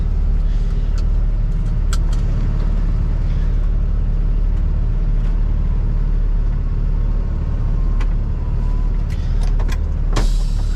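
A car passes on a road in Massachusetts while a box truck waits for it. A steady, loud engine and tyre rumble fills the whole stretch, with a few faint clicks and no talking.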